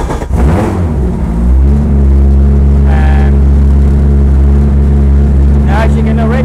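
An Audi Quattro engine starts and settles into a loud, steady idle with a deep, constant drone close by; a short clatter marks the start, and a voice speaks briefly over the running engine.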